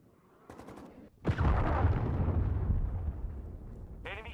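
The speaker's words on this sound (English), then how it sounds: "Hostile cruise missile incoming." A Call of Duty Modern Warfare 2 cruise missile killstreak strikes with a sudden heavy blast, its rumble trailing off over a few seconds, preceded by quick gunfire taps and followed by a brief radio-style voice.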